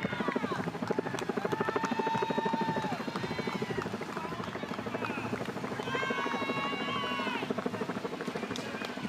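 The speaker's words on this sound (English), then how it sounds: "You can hear the helicopter because they know something amazing is about to happen." A helicopter hovers over the Chicago Marathon in 2023 as elite men race toward the finish, its rhythmic rotor chop steady beneath crowd noise and a commentator talking.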